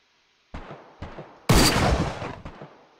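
Rifle gunfire in the video game DayZ: several sharp shots in about two seconds, with one louder burst in the middle and a short echoing tail, and no voices.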